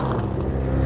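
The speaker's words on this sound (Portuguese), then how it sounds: "Maior, que moto barulhenta" Loud Yamaha XJ6 motorcycle engine roaring close by outside a show venue, a steady heavy rumble throughout with no pause.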